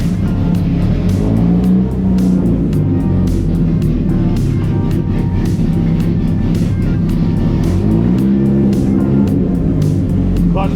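A race car engine drones loudly and steadily at close range, with a couple of rising and falling rev swells and sharp ticking clicks over it.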